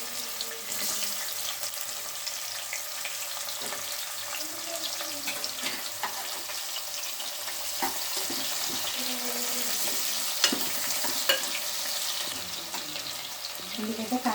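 Thinly sliced onions fry in a pan with whole spices for Kaju dum biryani, giving a continuous moderate sizzle with scattered crackles and occasional stirring clicks throughout, fairly close.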